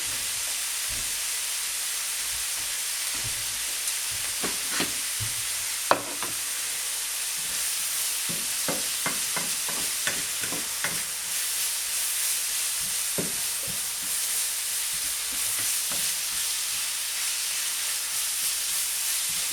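A bolognese sauce base frying in a pan, with a continuous close sizzle and hiss and occasional stirring clicks and spoon taps.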